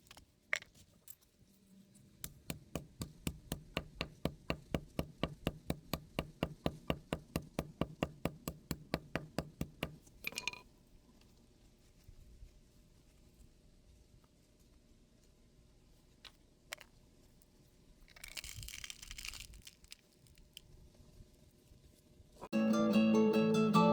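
Blue glass sealed in a sock is struck for resin art, giving a quick, regular run of sharp knocks for about eight seconds, followed by faint rustling and handling noise.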